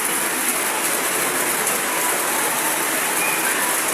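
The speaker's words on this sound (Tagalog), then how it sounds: "Kaso malakas ulan" Heavy rain from a typhoon pours steadily and densely, a continuous loud hiss of drops on surfaces with no pauses.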